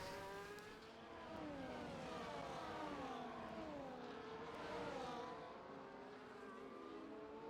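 Formula 1 cars battling for position on the Canada track in the F1 24 video game, several high-pitched engines whining and shifting pitch together as they race close, faint and steady throughout.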